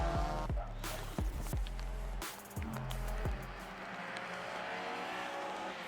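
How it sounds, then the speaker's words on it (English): Honda race cars on a formation lap at Knockhill, engines droning and shifting close by with sharp pitch sweeps as cars pass, then fading to a lower distant hum. "So the car's making their way around onto the second formation."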